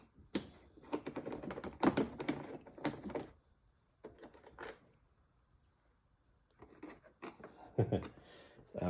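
A Phillips screwdriver turns out screws from the plastic of a Vectrix scooter handlebar, giving close bursts of quiet clicking and ratcheting with short pauses between them.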